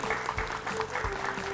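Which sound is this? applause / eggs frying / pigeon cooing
applause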